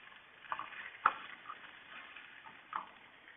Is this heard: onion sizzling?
yes